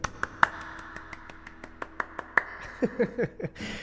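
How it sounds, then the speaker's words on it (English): A lone person clapping hands, a slow uneven series of sharp single claps close by and fairly quiet, followed by a short spoken voice at the end. "Let's clap our hands together."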